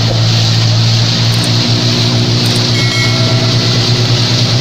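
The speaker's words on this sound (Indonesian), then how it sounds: "ini kapal patroli polisi" A police patrol boat on the water, heard as a loud, steady engine drone with a constant low hum and continuous rushing wash close by, no talking.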